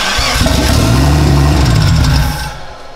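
A VW Golf Cabrio VR6 Turbo engine catches with a loud rumble, idles roughly for about two seconds, then dies away as it stalls, heard close up.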